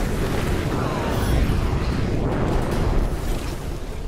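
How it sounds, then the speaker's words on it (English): A missile launcher explosion from the video game Skyforge booms in a dense, sustained roar that surges slightly and keeps rumbling throughout, loud and close. "say hello to my missile launcher"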